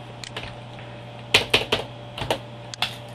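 Computer keyboard keys are pressed for an undo shortcut while editing an image to remove its background: a dozen or so crisp, close clicks in small uneven clusters over a faint steady hum. No talking.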